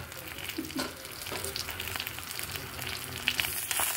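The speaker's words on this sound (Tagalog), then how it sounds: "Isa-isa lang na prito ko." Marinated milkfish (daing na bangus) fries in a pan in a close, continuous oily sizzle with small crackles and pops, and no one speaks.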